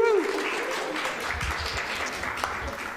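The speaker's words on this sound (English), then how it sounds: "give yourselves a big round of applause for coming out tonight" Applause from an audience at a women-in-politics panel event, a soft wash of clapping heard under a brief voice at the start, continuing steadily at moderate level throughout.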